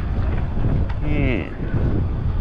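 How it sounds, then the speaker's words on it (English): Wind gusts buffet a boat moving across Sydney Harbour, a steady loud rush against the microphone throughout with a brief whistling tone midway. "It's gonna get even more windy now as we get around this bend because there's nothing to stop."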